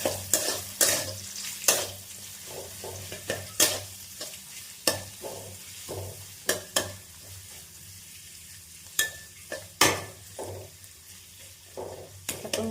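Onions and green chili fry in a pan with a steady sizzle while a spoon stirs and scrapes repeatedly, sharp clinks recurring in an uneven rhythm, close and fairly loud with no voices.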